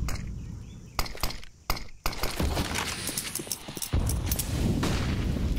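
Grenade blasts and gunfire in a CS:GO match on the Ancient map, a cluster of sharp cracking bursts followed by a dense, loud crackling wash of game noise with no voices.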